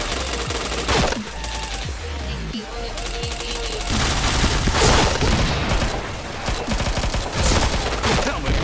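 Dense automatic gunfire from the shooting video game Point Blank rattles almost nonstop. Bursts overlap with loud booms and thuds, and a game voice announcement is partly audible under the barrage.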